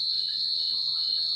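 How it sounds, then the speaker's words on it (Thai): A large cricket's loud, continuous high-pitched chirp, a steady shrill trill ringing without pause. "พาพี่น้องมาฟัง เสียงจิ้งหรีดนะครับฟังเลยครับเชิญฟังเลยครับ"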